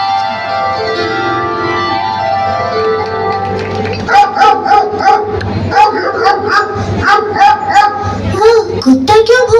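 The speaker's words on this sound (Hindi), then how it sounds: "कुत्ता क्यों भौंक रहा है?" A dog barks repeatedly in short yips from about four seconds onward, set in a devotional stage drama about a Vrindavan saint, over sustained harmonium-like music and singing.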